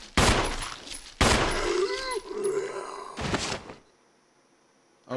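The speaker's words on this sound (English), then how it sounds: "Joe Valentine, please aim your gun" Gunshots in a Resident Evil game, sharp loud blasts in several separate bursts, with a groaning zombie cry between them and silence at the end.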